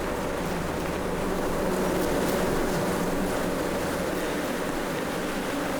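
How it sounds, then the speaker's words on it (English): Swarm of angry bees buzzing continuously, a dense steady hum close by with no gaps and no voices. "Hold on, I got a bee on the inside."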